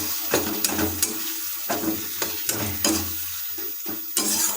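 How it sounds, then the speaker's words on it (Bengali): Spices and a tomato-based fish curry base with spring onion fried over a low flame in a pan, stirred with repeated scraping strokes over a steady sizzle, close and fairly loud with no speech. "লো ফ্লেমে নাড়াতে হবে যতক্ষণ না পর্যন্ত টমেটোর কাঁচা গন্ধটা না যায়।"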